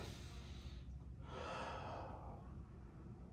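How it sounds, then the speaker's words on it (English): A deep respiratory breath taken while lying in a thoracolumbar stretch with one knee pulled over the shoulder: a single slow, close inhale and exhale with a soft airy rush, alone without talk. "take a nice deep respiratory breath"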